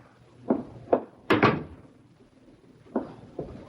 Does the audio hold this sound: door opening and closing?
yes